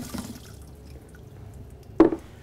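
Water dripping through a filtration membrane during a pedal-powered purification demonstration: a quiet background trickle, then one distinct close drip-like splash near the end.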